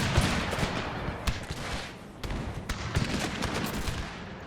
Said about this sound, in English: See if the general can aid here by firing pistols.